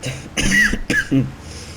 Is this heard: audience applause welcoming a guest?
no